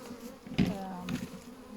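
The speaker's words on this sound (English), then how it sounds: "So there's a couple of bees that are in there as well." Bees buzz close by in a steady drone with a few louder passes, heard at a beehive.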